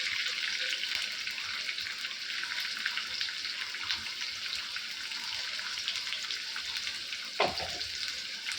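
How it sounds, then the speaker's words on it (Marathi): Onion dropped into hot oil already holding mustard seeds, giving a steady, fairly quiet frying sizzle with a brief clatter near the end as it goes into the pan. "त्यानंतर आता आपण कांदा टाकणार आहोत।"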